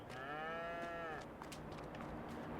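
Cattle mooing inside a cow barn in the Farming Simulator 22 video game: one long, drawn-out low moo rising and falling, with faint farm ambience after it and no talk.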